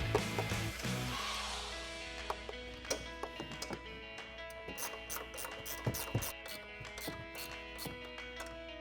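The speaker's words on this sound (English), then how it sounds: "we'll grab our 15mm ratcheting wrench" A 15mm ratcheting wrench tightens strut nuts on a 2019-2026 Silverado 1500 during a lift kit install; after an initial clatter, rapid close-up ratchet clicks come in short bursts with light metal taps.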